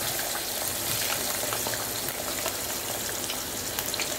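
Peeled, washed and cut potato finger chips crackle and sizzle in hot oil, a dense, continuous bubbling hiss that stays loud and even throughout, with no voices.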